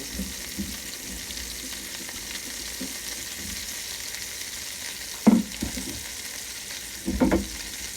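Mushrooms and orange peppers fry in a pan as chicken burgers are prepared, a steady close sizzle punctuated by a few clinks and utensil knocks near the end, with no talk.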